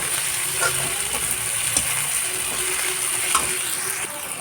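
Masala topping for biryani fries in a pan with a steady, close sizzle, broken by a few short scraping stirs along the way.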